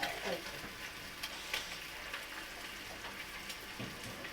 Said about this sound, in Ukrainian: Так, яйце зжарилось.